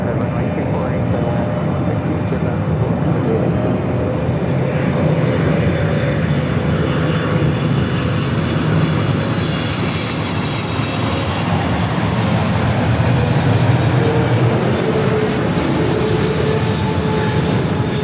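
Cathay Pacific 82 Heavy, a large jet on the runway at LAX, roars loud and continuous, its engine rumble holding steady with a rising whine throughout.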